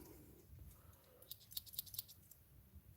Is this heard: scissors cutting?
yes